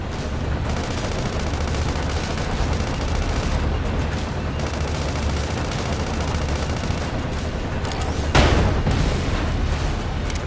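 Dense, sustained gunfire rattles through a Sand Land video game battle, loud and continuous, with a sharper, heavier burst near the end.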